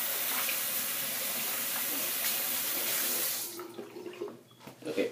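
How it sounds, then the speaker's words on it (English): Tap water runs steadily into a sink while hands are washed, a loud continuous splashing hiss that stops partway through and leaves soft handling clatter and faint knocks. "let me wash my hands"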